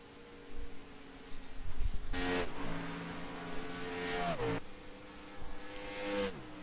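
Race cars in an NIS Open Series race roar past on track, engines whining through gear changes and fading between passes, loud and close.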